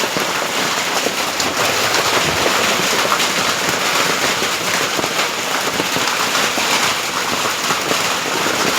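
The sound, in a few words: heavy hailstorm falling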